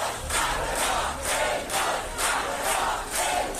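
A large crowd at a Tehran airport cheers and chants in loud, rhythmic waves, welcoming Iranian climber Elnaz Rekabi home.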